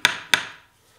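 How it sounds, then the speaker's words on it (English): A metal hammer lightly taps a headstock part from an 1890s metal lathe being restored, two sharp close metallic knocks about a quarter second apart, then quiet. "Now everybody's going to give me hell for using a metal hammer on this."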